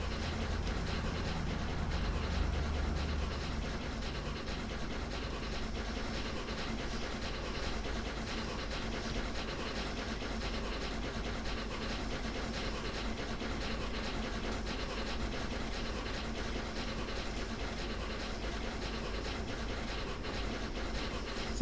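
Flying Scotsman steam locomotive in a train simulator game, hauling a long train with a steady, continuous rumble and hiss of rolling stock throughout, no talk.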